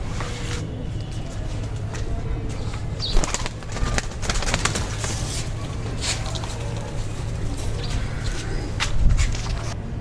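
A pet pigeon kept by a breeder, with soft wing flaps and scuffling movements nearby and a voice speaking faintly in the background.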